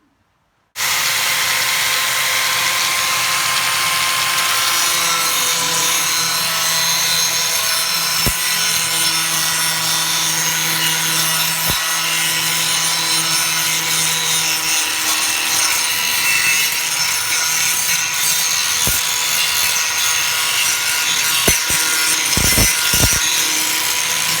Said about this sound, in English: So first up, I'll hit them with the grinder and see what's underneath that primer